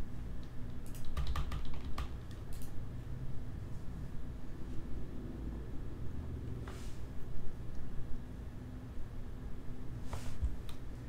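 Keys clatter on a computer keyboard while text is written into the Scratch interface, with irregular bursts of taps over a steady low background hum.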